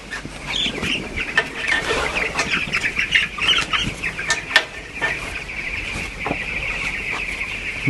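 A crowd of chickens clucks and squawks continuously at a poultry farm, with overlapping calls and occasional louder cries over a constant background of birds.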